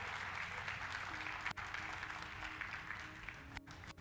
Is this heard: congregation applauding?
yes